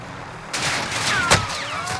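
Rapid gunfire rattles through a firefight in Call of Duty: Modern Warfare, a loud, dense burst of shots with one sharper crack standing out midway.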